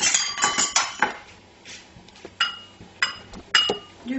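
A spoon clinks and scrapes against a bowl while mayonnaise is scooped in for a crab verrine appetizer, giving a series of sharp, close metallic taps and clatters with quiet gaps between them.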